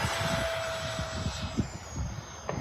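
Two RC model airplanes taking off at an outdoor flying field, a steady engine drone with a thin whine running throughout, moderately loud and slightly distant, with brief thumps and clatter near the ground.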